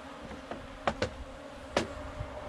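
Soft honey bee buzzing hums steadily at close range during a nuc-to-hive transfer, with a few brief louder bursts as bees fly past.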